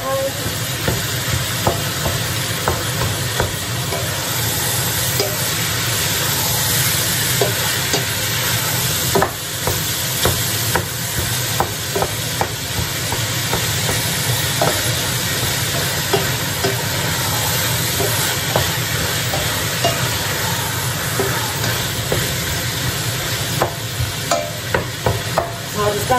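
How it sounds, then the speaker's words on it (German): Minced meat and vegetables fry loudly in a pan, a continuous close sizzle with scattered crackles and occasional scraping and stirring. "Ich werde jetzt ein bisschen anbraten, bevor ich es dann würze."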